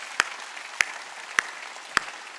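Church congregation clapping in unison during a worship service, four sharp, evenly spaced claps about half a second apart over a soft background hum, with no voices.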